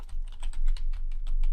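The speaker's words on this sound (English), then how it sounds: "So let's start typing that" Fast, steady typing on a computer keyboard, close up, with dense overlapping key clicks and no pauses or talk.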